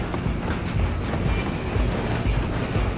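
A train in the video game Red Dead Redemption 2 rumbles steadily with a low, continuous rolling noise and faint mechanical clatter, loud and unbroken throughout with no talk.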